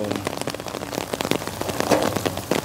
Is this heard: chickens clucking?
no